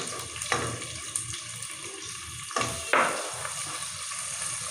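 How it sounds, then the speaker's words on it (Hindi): Onions dropped into hot ghee in a pan, giving a steady close sizzle with a few louder bursts and stirring clatter, no voices. "एक पैन में हमने घी डाला था, घी हमारा गर्म हो चुका है। अब हम इसमें प्याज डाल देंगे।"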